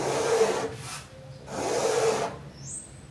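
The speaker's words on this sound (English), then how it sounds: "I've just got a wet comb and I'm scraping it down" A wet comb dragged down thick paint on a canvas for a coastal abstract piece, giving two long, close scraping rubs separated by a short pause, fairly loud and with no talking.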